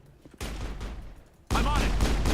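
Sniper rifle fire in the Mass Effect video game: two loud broadband bursts, the first sustained, the second sharper and louder, with faint voices mixed in.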